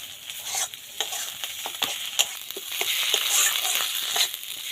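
Ground masala for egg korma fries in a pan over low heat, giving a steady close sizzle broken by repeated scraping stirs of a spoon, with no talking.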